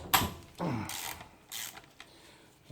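Ratchet breaking loose 12 mm cylinder head bolts on a Honda V-twin engine, heard as a few short, separate bursts of clicking and cracking, fairly close and with no talk over them.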